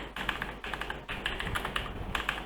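Fingers type on a computer keyboard in a rapid, uneven patter of close, crisp key clicks with short pauses between bursts.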